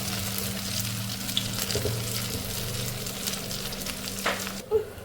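A snack made from idli batter fries in a little oil with a steady, close sizzle and faint stirring, then cuts off abruptly near the end. No voices.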